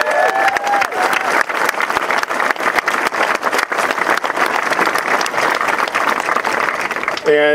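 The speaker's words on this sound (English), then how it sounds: "can we just give them another round of applause?" Audience at a GateKeeper media day opening ceremony applauds, with dense, sustained clapping from a large crowd, loud and continuous throughout, with crowd noise mixed in.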